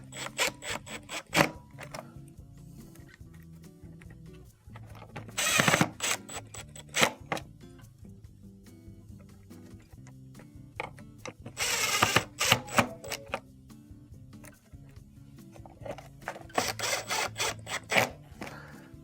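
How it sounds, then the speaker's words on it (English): Screws being driven back into the rear panel of a refrigerator during an evaporator fan motor repair; close, soft irregular scraping and rubbing with brief clicks and clatter, a few louder bursts. "Then reinstall our 4 screws."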